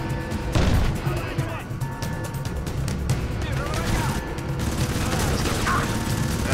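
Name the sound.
grenade explosion and gunfire in Crysis Warhead video game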